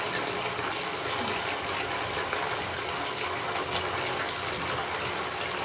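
Water fills a basin or sink to rinse soapy plastic PlayStation 1 console parts, a steady broadband rushing and gushing that holds level and close throughout with no pauses.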